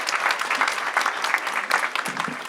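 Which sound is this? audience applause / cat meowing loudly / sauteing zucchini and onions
audience applause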